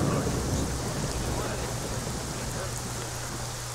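Steady rain falls in the S.T.A.L.K.E.R.: Shadow of Chernobyl game world, a dense continuous hiss with a low rumble beneath, holding an even level throughout without letting up.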